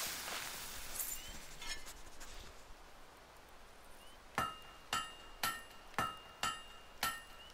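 A blade is hammered at the forge in Fable 3: after a quiet lead-in, six or seven sharp metallic clangs land at a steady pace, each ringing briefly, close and loud with no talk over them.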